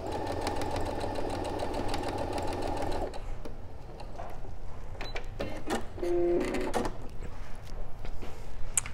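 A sewing machine stitches across the corner of a quilt square, a steady close mechanical whir for about three seconds, followed by quieter handling clicks and a brief knock.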